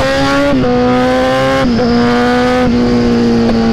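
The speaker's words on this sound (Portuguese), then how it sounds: "Zé Milzona acelerou o bagulho maluco" A BMW Z4's engine revs hard under acceleration, a loud, steady tone stepping up in pitch through several quick gear changes, close by with no talking.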